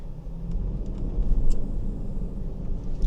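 A 2026 Lexus LX crawls off-road in four-wheel-drive high range, its engine giving a low, steady rumble with faint crunching from the terrain throughout a few seconds.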